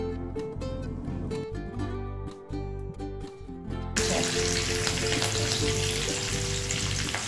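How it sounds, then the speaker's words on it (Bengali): Curry leaves, some whole and some torn, hitting hot oil in a pan while cooking restaurant-style sambar dal, clattering stirring at first, then a loud continuous sizzle bursting up partway through, no talk. "একটু ভেজে নেব এগুলোকে"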